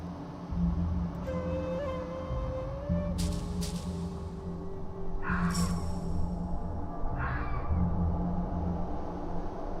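A dog sound in the point-and-click game Barrow Hill: a thin, steady whining tone held for about two seconds, over a constant low hum and a few soft, brief noise bursts.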